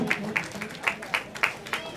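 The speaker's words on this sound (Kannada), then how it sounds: "ಅವರಿಗೆ ಚಪ್ಪಾಳೆ ಮೂಲಕ ನಾವು ಸ್ವಾಗತವನ್ನ ಕೋರ್ಬೇಕು" Brief burst of audience clapping welcoming former MP Sanganna Karadi at a Guru Purnima festival on Vijayadri hill, a quick run of sharp claps rising over a murmuring crowd.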